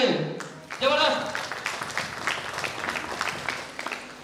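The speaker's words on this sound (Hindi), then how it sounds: "उनके लिए एक शानदार ताली चाहिए, जबरदस्त।" A burst of audience clapping at a direct selling training event rises after a brief voice and continues in a scattered patter for a few seconds.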